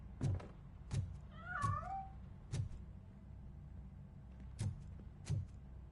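A cat in RoboCop: Rogue City gives a short run of close, wavering meows, set between regular heavy thumps that keep a steady beat.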